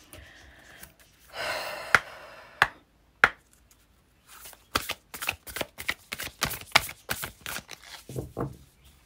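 Tarot cards are riffled and snapped in a few bursts, then shuffled in a quick series of crisp, rhythmic slaps, close and fairly quiet.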